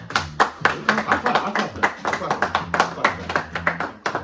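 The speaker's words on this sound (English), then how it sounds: "clap for that" A small group claps in quick, uneven bursts while someone talks over it, close and fairly loud, the clapping rising and falling through the clip.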